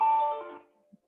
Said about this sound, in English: Well, that's my phone.